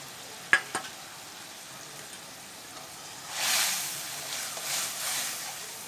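Parshe fish go into a pan with a little water while cooking a curry with water lily stems. A couple of sharp knocks come first, then a loud bubbling sizzle rises and keeps hissing close by.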